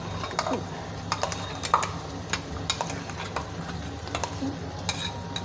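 A cashew and onion paste fries in oil for a cashew makhana curry while a spoon scrapes and clinks against the pan, producing irregular close taps over a soft, low frying hiss, with no talking.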